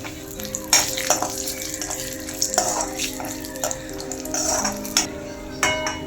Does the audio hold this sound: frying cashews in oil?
yes